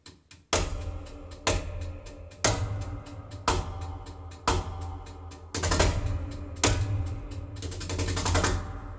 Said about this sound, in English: I'm a sucker for ticking sounds.